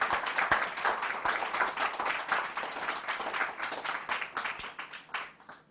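Warm audience applause for Caroline at a talk on the history of the British Empire, just before a Q&A: dense, steady clapping from a crowd lasting several seconds, close and full, fading a little toward the end.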